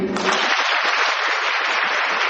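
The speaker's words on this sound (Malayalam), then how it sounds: "ഞാൻ 4 എന്ന് പറയുന്ന സമയത്ത് തുടർച്ചയായിട്ടൊന്ന് ക്ലാപ്പ് ചെയ്യാം." A lecture audience breaks into continuous clapping on cue, a sudden loud burst of many hands that holds steady and dense for about two seconds.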